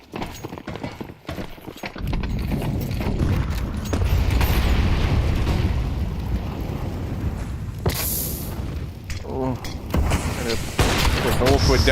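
A grenade explodes in Counter-Strike on the Nuke map during a professional esports match, a rumbling blast set among game noise. Commentators talk excitedly over it.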